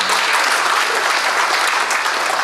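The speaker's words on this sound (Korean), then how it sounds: "오늘 주례를 마치고 박수 주실까요?" Steady, dense applause from a wedding ceremony audience at a joint wedding in Incheon, loud and continuous throughout with no break.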